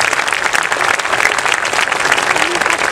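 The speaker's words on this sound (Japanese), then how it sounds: "どうぞ皆様大きな拍手をお願いいたします。" A crowd at a farewell ceremony for a departing football player claps loudly and steadily during a flower presentation, dense continuous applause filling the whole moment with faint voices mixed in.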